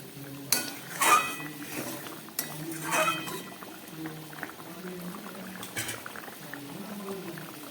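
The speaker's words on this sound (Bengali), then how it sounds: "ঝোলটা ফুটে উঠেছে" Curry gravy with rita and tengra fish, cooked with tomato and onion, simmering in a pot, with a soft bubbling bed, occasional clinks of utensils and a few stirring sounds.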